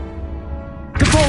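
A summoning spell cast in Hogwarts Legacy: after a quiet game ambience, a sudden bright magical burst with a soft thump hits near the end, loud and close.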